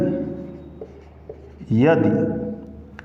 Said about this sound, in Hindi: यहाँ पे लिख लेते हैं